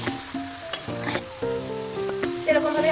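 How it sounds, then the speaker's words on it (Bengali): Potatoes sautéed slowly in a pan with a little water, a continuous close sizzle broken by repeated spatula scrapes and clinks against the pan. "এরকম ভাবে আস্তে আস্তে করে আলুটা কষিয়ে নেবো আমরা"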